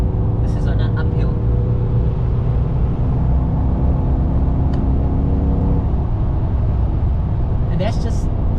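A Chevrolet Lumina SS pulls uphill in third gear under partial throttle, its engine a loud, steady droning rumble heard from inside the car throughout.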